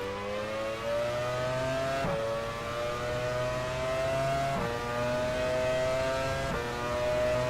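V10 Formula 1 engine from the F1 Challenge 99-02 racing game, 1999 Brazilian Grand Prix, whining steadily with rising pitch through the gears, dropping sharply at each upshift about every two and a half seconds, loud and continuous.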